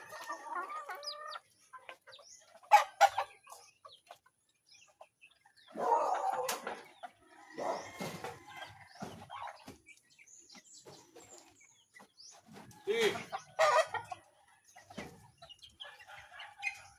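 A mother hen and her chicks cluck in scattered bursts, close and fairly loud, with brief pauses between calls and no talking over them.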